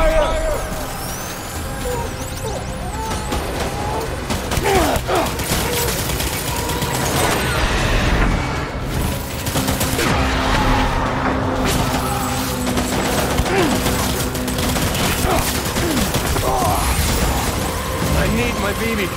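Sustained gunfire in the video game Death Stranding, dense overlapping bursts and shots rolling on loudly for the whole stretch with mechanical clatter mixed in, while voices shout beneath the firing.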